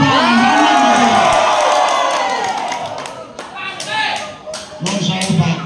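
Villagers protesting at the Banjardowo village office against the village head shout and cheer together, a loud, dense crowd roar that eases slightly midway, then swells again in bursts of voices.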